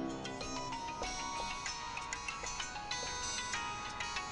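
A mobile phone ringtone plays a repeating bright electronic melody, steady and moderately loud, looping in short regular phrases with no voices over it.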